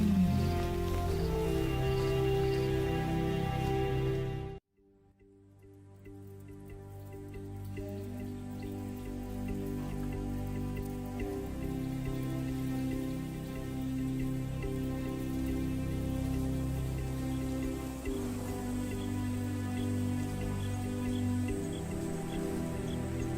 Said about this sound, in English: Playing in the rain, their spirits remain undampened.